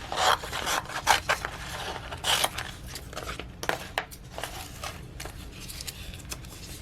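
Scissors cut around a piece of vinyl covered with transfer tape, producing irregular close snips, crinkles and rubbing sounds of the sheet being handled, with no speech.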